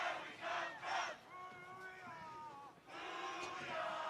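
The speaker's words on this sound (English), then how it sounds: "Crowd trying to get the Lenoir-Rhyne soccer team fired up here." A soccer crowd at a Lenoir-Rhyne Bears men's college match chants in unison to fire up the home side, a loud collective swell with sustained voiced tones that dips briefly before surging again.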